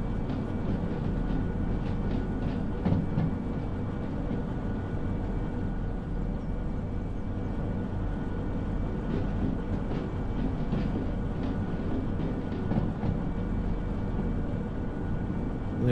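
A long train rolls along the tracks in the Derail Valley simulator game, a steady low rumble with faint rhythmic clicks from the rails, continuous and fairly close, with no talk over it.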